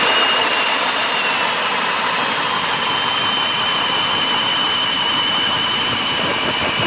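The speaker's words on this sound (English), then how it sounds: "I'm gonna show you how it has no signs of slowing down at all here. It's a full auger of ice." A cordless Milwaukee Fuel drill fitted with a pistol bit drives an ice auger through thick lake ice in winter, making a loud, steady, high-pitched motor whine that does not let up or slow at any point.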